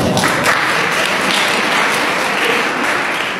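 An audience claps loudly and continuously at a formal event celebrating an institution's success, a dense sustained round of applause that holds steady and only eases slightly at the end.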